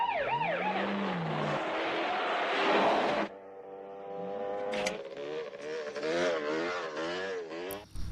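Motorcycle engine revving through a film chase scene, heard with a wailing police siren early on, then shifting, undulating engine tones as the bike speeds away.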